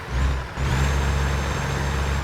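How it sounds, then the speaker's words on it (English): A heavy truck engine in American Truck Simulator holds a steady rev to build air brake pressure, with a deep low drone and a thin whine, loud and continuous. "Revving the engine to get that brake pressure."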